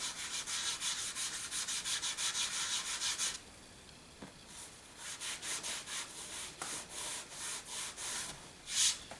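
Steel wool with a little oil rubbed over scratches on a Springfield M1A rifle, making close, soft scratchy strokes in a fast even rhythm, then a pause and slower, more spaced rubs.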